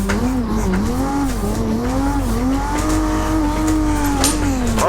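Tires squeal continuously as a car slides under the handbrake in Assetto Corsa, the engine droning loud and steady beneath a wavering skid tone for the whole stretch.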